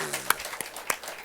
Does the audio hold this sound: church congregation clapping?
yes